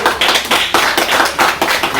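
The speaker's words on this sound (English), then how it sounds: "Give them a big round of applause like that." Students named most improved at a JAHJAH Foundation Hurricane Beryl relief event get a burst of clapping from the crowd, a dense, fairly loud spatter of many hands with steady pulses, no voices over it.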